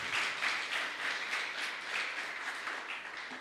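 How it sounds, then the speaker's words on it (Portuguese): A church congregation applauds during a service: steady, soft clapping that sounds somewhat distant and keeps an even, slightly pulsing wash for a few seconds. "Você pode aplaudir o Senhor?"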